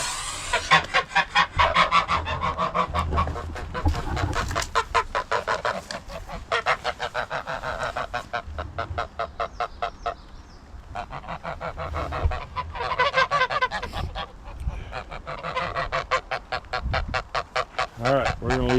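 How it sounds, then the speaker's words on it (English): Geese honk loudly and repeatedly close by near a makeshift plank bridge, the calls coming in dense rapid bursts with brief pauses, while a voice is faintly heard now and then. "All right, geese"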